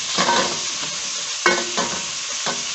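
Onions frying in a pan until golden brown, with a steady close sizzle broken by a few soft stirring scrapes and clinks.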